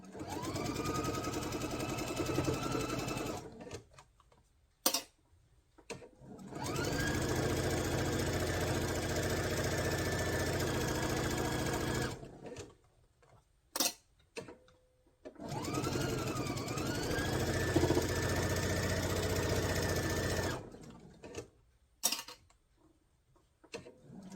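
Home sewing machine stitching fabric pieces for a quilted table runner, running in three long steady bursts of whirring stitches separated by short pauses with small handling clicks.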